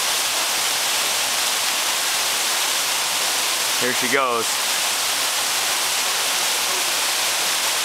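Steady broadband rush of a 30-foot waterfall in Costa Rica, heard close and constant, with a brief spoken remark partway through.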